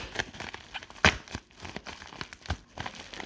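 Crinkling and tearing of paper packaging in short bursts, with one sharp rip near the middle, close up.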